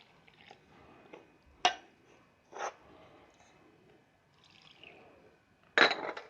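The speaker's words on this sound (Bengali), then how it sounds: "এখন দুধ আর জল অ্যাড করে একটা ব্যাটার বানিয়ে নেব।" Milk and water go into a bowl to make malpua batter, heard as a few separate clinks and short pours, each brief and sharp against a quiet kitchen background.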